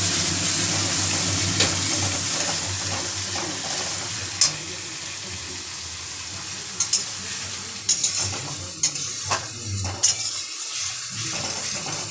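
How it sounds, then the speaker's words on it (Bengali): Grated onion paste frying in oil until reddish, a steady sizzling hiss with occasional spatula scrapes and knocks against the pan, no one speaking. "পেঁয়াজটা ততক্ষণ ভাজা হোক একটু লাল লাল করে"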